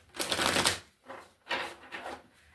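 Tarot cards being shuffled by hand in two bursts, a long riffling rush followed by shorter ones, close and fairly loud with no talking.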